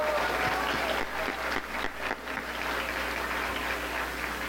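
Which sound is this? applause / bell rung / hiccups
applause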